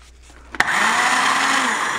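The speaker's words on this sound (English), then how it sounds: "Still need a new blender." A blender switches on with a click and then whirs steadily, mixing protein pancake batter in a home kitchen, a loud continuous motor hum with no talk over it.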